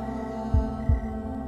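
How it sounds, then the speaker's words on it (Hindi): Two deep, thudding heartbeat pulses sound close and loud over a steady low hum, spaced about a third of a second apart, in a Hindi horror thriller movie. "हर किसी का दिल इसी तरह धड़कता है।"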